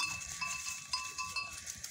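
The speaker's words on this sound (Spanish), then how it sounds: "Acuden ovejas de todos los sitios y lugares" Sheep and goats gather among oak trees to feed on fallen acorns. Faint, distant bleats and a cowbell clank softly across the open field in a brief moment.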